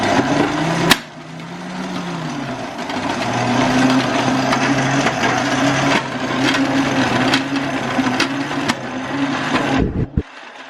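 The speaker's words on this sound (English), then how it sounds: "we are going to whisk that up a little" About 8 ounces of softened butter is whisked in a bowl with an electric mixer, a steady loud motor whir with faint beating clatter, running continuously before cutting off abruptly near the end.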